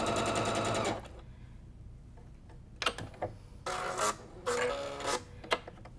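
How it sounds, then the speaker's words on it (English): Sewing machine stitching quilt block pieces for a sawtooth star block, with a fast continuous whir at the start, then short bursts of stitching separated by quiet pauses, close and clear. "we're going to start stitching from the side where you can see the seam"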